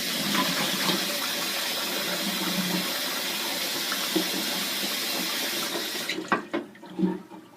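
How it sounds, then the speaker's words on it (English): Tap water pours steadily into a sink while someone rinses off after a wet shave, a loud, even gush that stops near the end and gives way to a few splashes and drips. "rinse off"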